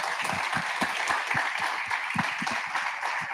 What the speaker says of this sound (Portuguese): Palmas para o palestrante.